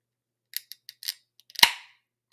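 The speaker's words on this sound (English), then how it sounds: "Let's see if we get a nice can crack from this." Beer can cracked open up close: a few small metallic clicks as the tab is worked, then one sharp crack and short fizzing hiss, loud and isolated in a quiet room.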